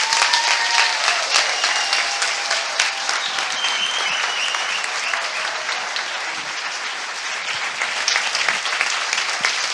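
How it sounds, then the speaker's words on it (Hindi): A church congregation claps during worship, a loud, dense and steady round of applause lasting about ten seconds with some scattered sharper claps and no talk over it. "यीशु के लिए ताली बजाएंगे।"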